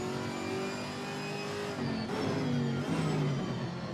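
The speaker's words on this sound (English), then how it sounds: "just listen to the engine note" A GT4 race car engine in Assetto Corsa Competizione, holding a steady high note and then dropping through several downshifts into a chicane. It sounds fairly quiet and close, with no talking over it.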